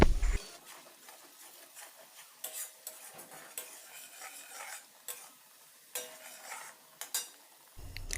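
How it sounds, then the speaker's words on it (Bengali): Spice paste frying in a pan over a low gas flame for a Bengali bhola fish mustard curry, with a soft steady sizzle and intermittent scraping stirs of a spoon against the pan. "মশলার পেস্টটি দেওয়ার সময় গ্যাসটি লো ফ্লেমে রাখতে হবে।"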